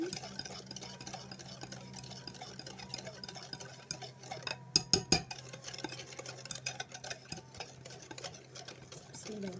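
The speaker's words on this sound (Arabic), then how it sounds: "بالمضرب نحاول ندوب السكر مع البيضه مع الزبده" A hand whisk stirs sugar, egg and butter together in a bowl for orange biscuit dough, giving a steady scratchy scraping with a short burst of sharper clatter midway.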